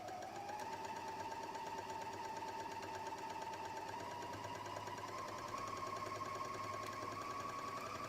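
Sewing machine running a flatlock stitch at a slow, steady pace, a faint continuous mechanical whir with rapid needle clatter and a slowly rising motor pitch, no talking.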